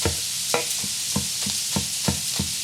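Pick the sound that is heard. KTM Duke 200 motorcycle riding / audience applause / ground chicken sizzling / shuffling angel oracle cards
ground chicken sizzling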